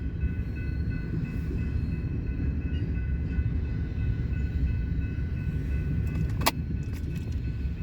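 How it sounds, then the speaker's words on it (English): An intermodal double-stack freight train rolls past close by with a steady heavy rumble of wheels and rail, a continuous low roar throughout, plus a brief sharp metallic clank near the end. "this stack train came out of Fremont here"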